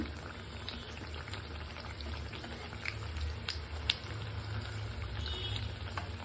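Beguni, batter-coated eggplant fritters, frying in hot oil in a wok, a steady low crackle and bubbling hiss running throughout with faint scattered pops, close and fairly quiet, no talking.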